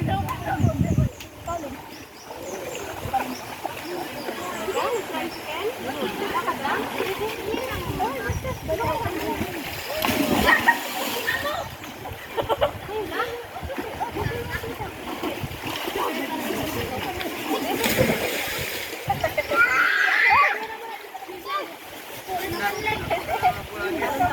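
Children splash and play in a cold river, the splashing, gurgling flowing water and some birdsong running under frequent nearby talk.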